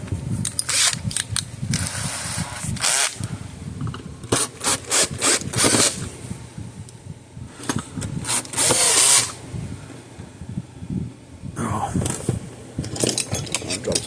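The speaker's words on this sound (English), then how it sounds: "And then get my screw gun out," Screw gun driving screws while repairing a Speedrite electric fence energizer, heard as repeated short bursts of whirring and rubbing, close and fairly loud, with scrapes and handling noises between them.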